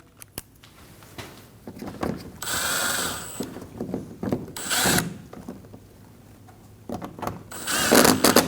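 A ratchet tightens bumper screws on a 2012-2022 Volkswagen Passat during a radiator replacement, sounding close and clear in several bursts of quick clicking separated by short pauses.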